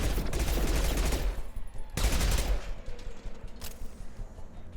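SMG fire in Mass Effect 2, rapid loud bursts of automatic shots in two main volleys with a short pause between, followed by quieter trailing gunfire.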